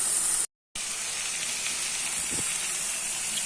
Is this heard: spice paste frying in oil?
yes